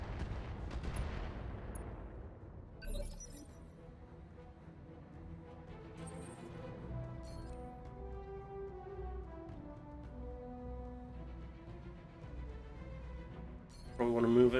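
Turrets firing in the BattleTech game, a heavy blast at the start fading into a rumbling tail, followed by scattered later impacts over a low musical backdrop, with a voice talking.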